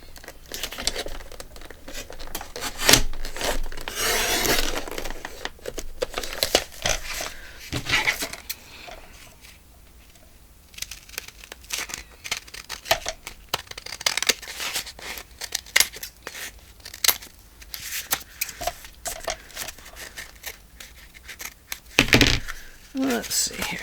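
Scissors trim a paper Christmas card being turned into a notebook, giving crisp snips mixed with crinkly rustling of the card in short irregular bursts at close range.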